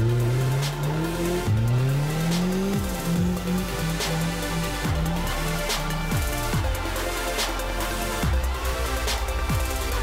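A homemade replica car is driven off-road through a forest, its engine revving up and dropping back repeatedly at close range, with sharp bursts and scrabbling tire noise between the climbs.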